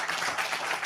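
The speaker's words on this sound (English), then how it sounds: "Please give him a round of applause for doing what he is doing." Audience applause at an Indian real-estate brand leadership awards ceremony, a brief steady burst of many hands clapping at once, dense and even throughout.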